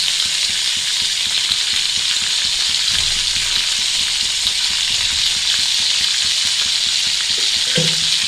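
Fish frying in oil for a masala curry, a loud continuous hiss of sizzling oil that holds steady for over eight seconds, with a faint low clink near the end and no one talking.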